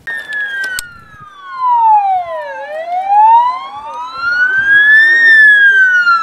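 Ambulances and emergency rescue vehicles at the scene of a school bus and tractor collision near the village of Kontsevo, Transcarpathia: a loud siren wails in long rising and falling sweeps throughout, with faint background noise.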